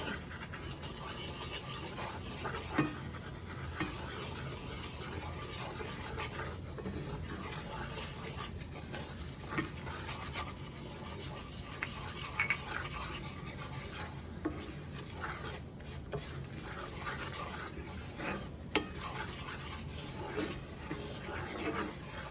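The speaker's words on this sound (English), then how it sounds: "I'm going to add 1/4 of a cup of flour and mix that in." Flour being stirred into minced dried onion in a pot, a long stretch of soft continuous scraping and stirring with a faint sizzle underneath, quiet and close, with no talking.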